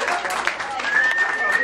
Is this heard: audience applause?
yes